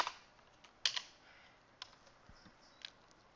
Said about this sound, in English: to do that we just type in this